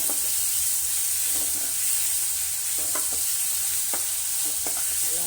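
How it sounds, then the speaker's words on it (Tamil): Tomatoes sautéing in a pan for a mutton kola urundai kuzhambu, a steady close sizzle with light stirring scrapes and occasional clicks of the spoon against the pan. "தக்காளி போட்டு வதக்கிங்க"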